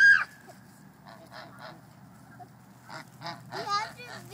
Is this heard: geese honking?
yes